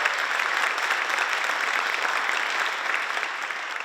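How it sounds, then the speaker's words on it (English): An audience at a sixth-grade band spring concert in a performing arts center claps steadily, a dense, even wash of applause that holds throughout and eases slightly toward the end. "I think that in itself deserves a round of applause."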